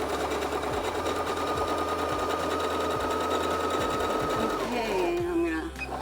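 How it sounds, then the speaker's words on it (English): Sewing machine stitching a pillowcase seam, running steadily up close with a fast mechanical whir and rhythmic needle thumps for about five seconds before slowing to a stop. "I'm going to backstitch"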